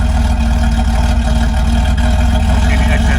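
A 1984 Porsche 911 Targa engine idles steadily nearby, a continuous low rumble with a faint hiss on top, running without change.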